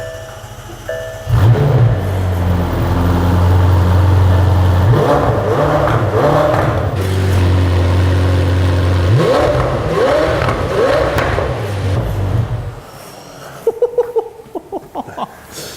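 A new McLaren Senna supercar's exhaust revs loud and close: deep idle broken by repeated sharp throttle blips and sustained high revving, settling back before fading out near the end.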